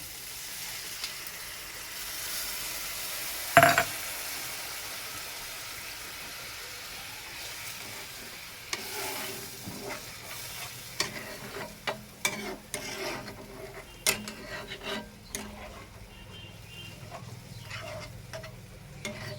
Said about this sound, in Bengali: আমার মশলাটা এবারে জলটা দিয়ে দিচ্ছি।